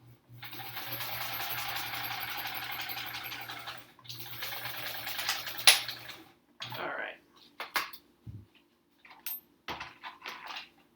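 A sewing machine back tacking while paper piecing a quilt block, a close continuous whirring run of stitching that pauses briefly and resumes, then gives way to scattered handling clicks and rustles.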